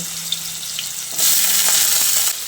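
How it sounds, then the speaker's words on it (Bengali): Cut potatoes drop into hot oil with black cumin and dried chilli, setting off a loud, steady sizzle that swells suddenly and holds for about a second before easing back to a quieter fry. "এবার আমি এর মধ্যে কেটে রাখা আলুগুলোকে দিয়ে দিচ্ছি"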